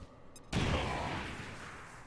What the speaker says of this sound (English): So I'm just going to toss the grenade here.